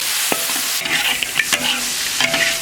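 Small dried fish stir-fried with chopped chili in a wok, with repeated scraping strokes of a spatula over a continuous oily sizzle, close and loud.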